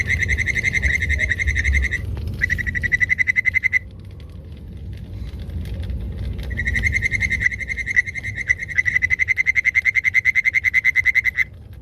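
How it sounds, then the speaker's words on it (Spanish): Toads croak in loud, close, rapid pulsed trills that come in bursts separated by short pauses, over a low background rumble. "Uno tiene la sensación de que ha oído a los sapos croar"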